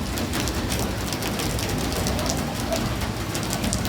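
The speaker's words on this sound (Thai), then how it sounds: "ฝนตกช่วงสุดท้ายพอดี" Steady rain falls and patters on surfaces during a Buddhist Tak Bat Devo alms-giving ceremony in Thailand, a dense, even hiss that stays constant throughout with no voices.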